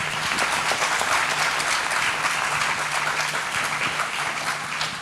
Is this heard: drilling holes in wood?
no